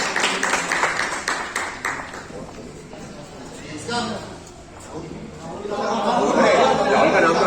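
At a 2022 awards and retirement function of a Garhwal kirtan group and Ramlila committee, the audience breaks into brisk clapping that fades into crowd chatter and talking.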